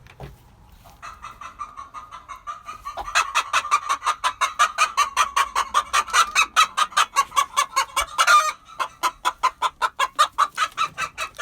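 A grumpy hen in a coop protests while her eggs are collected, starting with low grumbling and rising into a long run of loud, rapid, rhythmic clucks right beside the listener.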